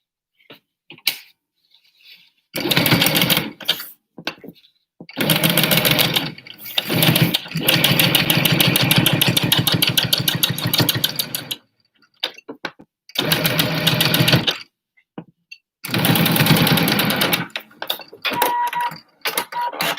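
A regular home sewing machine stitches a batwing-pattern face mask. The motor whirs loudly and steadily in several long runs, broken by brief silences, with a few short clicks and taps between the runs.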